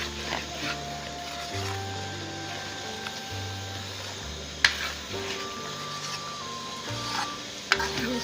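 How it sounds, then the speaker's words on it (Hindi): Sarson ka saag thickened with a wheat flour paste is stirred and fried in a pan, a continuous sizzle under steady scraping of the spoon, with a couple of sharp clinks against the pan and a faint tonal hum behind. "इसको अच्छी तरह फ्राई करूँगी।"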